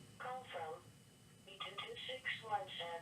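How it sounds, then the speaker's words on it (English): A phone caller ID unit sounds with synthetic, electronic voice-like tones in two bursts under a quiet background. "Great, the goddamn caller ID going off."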